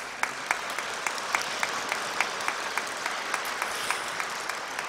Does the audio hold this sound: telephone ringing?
no